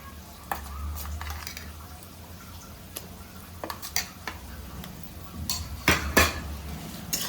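Raw masala being mixed into whole spices frying in a pan, with intermittent clinks and scrapes of a spoon against the pan over a low sizzle, the knocks growing louder and denser toward the end.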